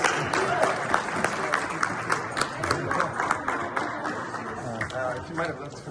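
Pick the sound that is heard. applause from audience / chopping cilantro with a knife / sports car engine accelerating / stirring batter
applause from audience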